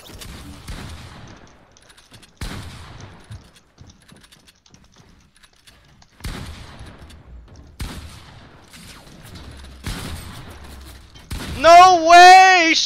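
Gunfire in the Fortnite Arena Mode game: several sharp broadband shots spaced across the stretch, some in quick pairs, fairly loud, with a voice and a rising tonal game effect near the end.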